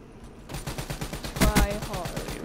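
Pistol gunfire in the Black Ops 3 video game, a rapid, loud string of evenly spaced shots that swells into a heavier burst midway and keeps going to the end.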